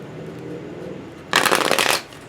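Oracle cards being shuffled, a dense riffling flutter lasting about half a second that follows quieter handling.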